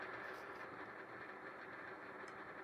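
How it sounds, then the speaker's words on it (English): An old car's engine under restoration, long unrun, rumbles steadily at a low, rough idle as a constant droning hum that holds at a fairly even level. "the engine's dying down"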